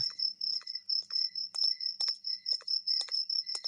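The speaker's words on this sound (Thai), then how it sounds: "ชอบบรรยากาศเสียงจิ้งหรีดมันร้องมากเลยนะ" Crickets chirp steadily in a nighttime scene of the horror game Pocong 3D, set in a banana grove: a continuous shrill trill runs throughout, with repeated short pulsing chirps layered over it at a moderate, even level.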